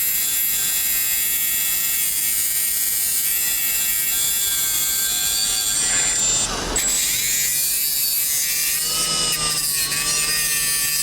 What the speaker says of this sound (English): if I took a sander and put a little bevel on this right here, that would help it push in